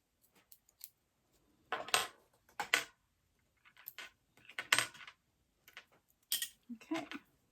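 Scissors snip through fabric while trimming sewn backpack strap connectors, a series of short, crisp cutting bursts in small clusters, close and fairly quiet, with no talking.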